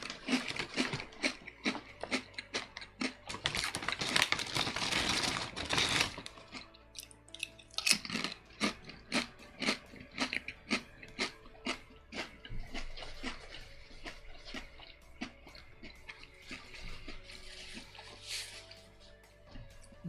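Lime-flavored snack chips crunched up close, a dense burst of crisp crackling bites followed by a steady run of sharp, separate crunches, with no voices.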